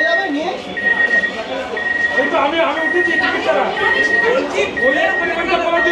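A door-closing alarm sounds aboard West Bengal's first AC local train on the Sealdah–Ranaghat route, giving steady repeated electronic beeps beneath loud, constant crowd chatter inside the carriage.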